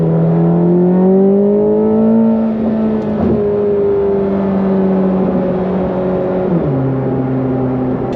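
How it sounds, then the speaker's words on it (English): A Corvette C8 ZR1 at full acceleration, roughly 1,000 horsepower with twin turbos, roaring loud and close with rising engine pitch, distinct gear shifts and a steady turbo whine throughout. "I really hope you guys can hear the turbos."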